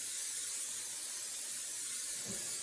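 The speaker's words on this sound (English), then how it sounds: "spraying our pan. A little bit of cooking spray" Cooking spray hisses steadily onto a baking pan, a continuous close airy spray that runs without a break and has no talking over it.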